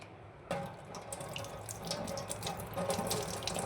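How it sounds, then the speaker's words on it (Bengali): Water running from a tap over a potato being washed in a sink, a steady close splashing rush with small irregular spatters as the potato is turned under the stream. "তো এই আলুটা আমি সর্বপ্রথম ধুয়ে নেব।"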